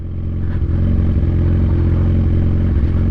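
Kawasaki Z1000 motorcycle riding on a dry, dusty road, a loud, close, rumbling engine drone with rattly clatter throughout.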